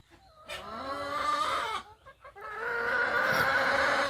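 Broiler chickens on a poultry farm cluck and call in overlapping bursts, fairly close and loud, with a brief lull midway before the flock noise returns.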